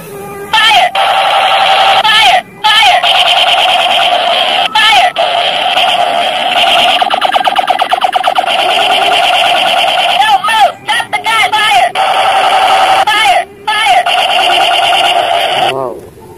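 A light-up toy gun fires its electronic sound effect: loud, bright, warbling synthetic tones repeating for many seconds with only a few short breaks, close by.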